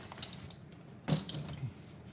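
Metal ratchet wrenches are shifted aside on a surface, giving a few faint clinks, then a louder cluster of metallic clatter and ratcheting clicks up close, with no voices.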